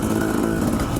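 Dirt bike engine on a mountain trail ride near Idaho City, a loud, close, steady motor drone held for a brief moment with no voices.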